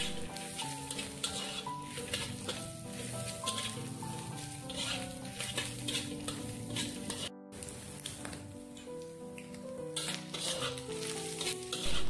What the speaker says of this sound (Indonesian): Lalu kita tumis hingga cabenya wangi ya teman-teman.